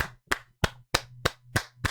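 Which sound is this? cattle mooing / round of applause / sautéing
round of applause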